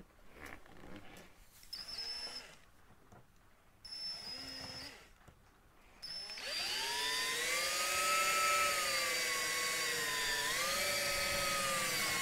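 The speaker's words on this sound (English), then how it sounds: "He's just drilled it" A power drill bores into a toy tractor part with a few short whirring bursts, then runs in a long, loud, steady whine that shifts pitch as it works.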